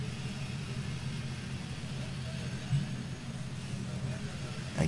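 A car engine with an ignition misfire, likely from fouled plugs or arcing wires, runs with a steady low rumble and slight uneven pulsing, rising briefly under throttle near the end.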